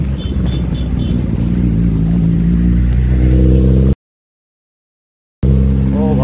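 A Kawasaki Ninja ZX-10R superbike rides past with a loud, steady engine drone whose pitch rises as it accelerates, then cuts briefly to silence before the engine noise resumes.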